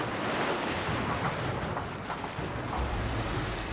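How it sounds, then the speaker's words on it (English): Guns firing in a strategy war game, a dense, continuous rumble of artillery-like blasts and overlapping gunfire, loud and steady throughout with no voices. "You can just see my guns beating away at them."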